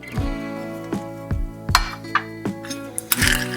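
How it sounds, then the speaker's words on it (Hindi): Spoonfuls of pumpkin seeds drop into a pan of roasting dry fruits, each landing with a ringing metallic clink from the spoon against the pan, repeated in a steady rhythm about every half second, close and clear. "इसमें मैं 2 चम्मच पम्पकिन सीड ऐड कर रही हूँ"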